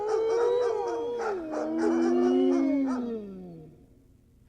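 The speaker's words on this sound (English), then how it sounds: "heard the wolves howling in the distance" Wolves howl as a radio drama effect, several long overlapping howls that slide down in pitch and fade away, sounding somewhat distant.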